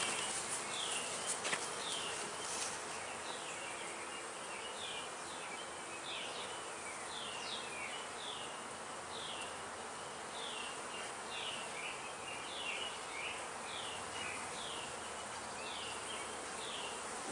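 Dense, steady buzzing of many honey bees up close as they are shaken into a bucket, a continuous hum with scattered higher chirps above it, no voices.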